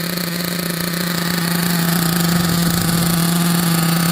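Team Associated MGT RC monster truck's small nitro engine fitted with a new exhaust pipe, running loud and steady with a slight rise in revs, close up and without talking.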